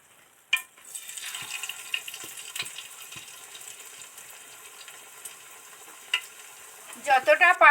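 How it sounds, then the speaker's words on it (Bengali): Drumstick-flower pakoras drop one after another into hot oil, a steady close sizzle of deep-frying with soft clinks and a sharper bubbling burst near the end. "পরপর স্টেপ বাই স্টেপ এই পকোড়াগুলো এর মধ্যে ছাড়তে থাকছি"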